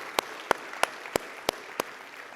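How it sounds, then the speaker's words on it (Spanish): Congregation in a church service giving a short burst of applause: six sharp, evenly spaced claps, each ringing briefly in the room, over a quiet background with no talking. "Dale una ofrenda de palmas al Señor."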